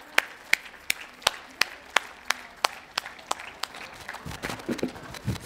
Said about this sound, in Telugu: come on everybody clap